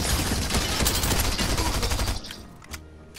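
Rapid bursts of automatic gunfire from the Fortnite video game, loud and dense for about two seconds before thinning into a few scattered shots and quieter ambience.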